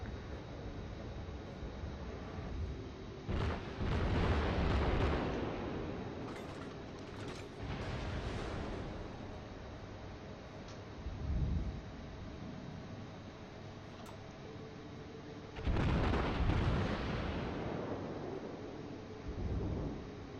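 Naval cannon fire in a warship video game booms out in several heavy, rumbling blasts, a pair near the start and more later, each low and thundery against a steady background hum.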